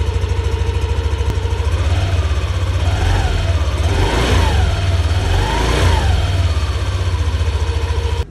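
A restored Yamaha Aerox V2 scooter engine runs steadily close by, a continuous mid-pitched drone with a rapid even pulse and slight swells in revs, with no talking.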